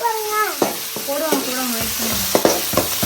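Tomatoes sizzle steadily in a hot pan, with scraping and stirring clatters breaking in at intervals and a tonal voice-like hum running underneath.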